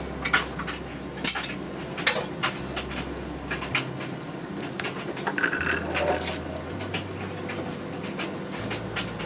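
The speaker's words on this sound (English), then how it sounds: "Tip all the beans in." Cannellini beans tipped into a slow cooker, a run of soft clattering knocks and scrapes of beans and utensils against the pot, fairly quiet and close with a low steady hum underneath.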